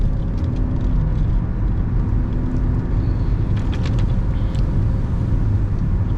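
Car engine and road noise as the driver speeds up to merge back onto the road, a steady loud low rumble filling the whole stretch with no talking.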